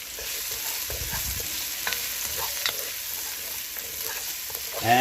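Curry powder fries in oil with onions in a pan, giving a steady soft sizzle close by with occasional stirring scrapes and a brief louder flare near the end.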